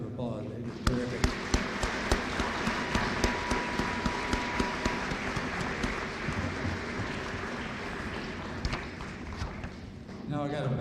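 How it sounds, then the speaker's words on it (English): Audience at a Veterans Day program applauding student musicians: sustained, loud crowd clapping with sharp, fairly regular accent claps that carry through, then taper off near the end. "Let's give them another round of applause."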